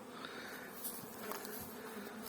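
Honey bees fly around their hives on an early-March day at the start of the season as they bring in the first pollen, making a faint, continuous buzzing drone with no talking.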